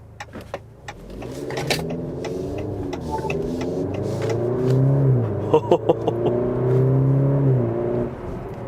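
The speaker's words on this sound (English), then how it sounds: "Love the sound of this Turbo 4" A 2023 Maserati Grecale Modena turbocharged four-cylinder engine revs up through rising pitches as it accelerates in sport mode, pulling through gear changes, heard from inside with a few clicks.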